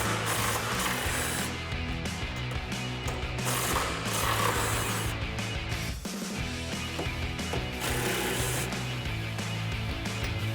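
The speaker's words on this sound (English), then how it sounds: "I'm going to take my 13 millimeter on my 3/8 electric impact gun, remove these 4" Electric 3/8-inch impact gun with a 13 mm socket zaps out front strut bolts on a 2011-2014 Mustang GT, a loud, continuous mechanical rattling and hammering that runs for about ten seconds, dipping briefly midway, with no talking.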